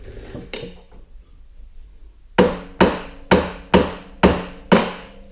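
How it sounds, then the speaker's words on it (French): A small rubber mallet strikes a part on a 1994 Kodiak 400 ATV: one blow, a pause, then six firm, evenly spaced knocks, each loud and close with a short ringing decay. "Et venir avec un petit marteau de rubber."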